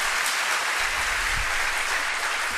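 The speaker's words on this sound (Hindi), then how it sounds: "मैं चाहती हूँ कि उनके लिए जोरदार तालियां यहाँ पे किया जाए।" Loud, dense applause from an audience at a literary festival session in India, a continuous sustained roar of many hands clapping at steady intensity throughout.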